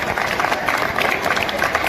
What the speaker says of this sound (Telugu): ఒకసారి గట్టిగా చప్పట్లు వాళ్ళకు